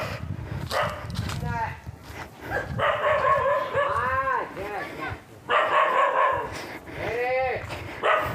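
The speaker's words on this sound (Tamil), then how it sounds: "கீழே நாய் மட்டும் குலைக்குது" A dog in a tribal hill village along a winding mountain road barks in several loud, repeated bursts, with short pauses between the groups of barks.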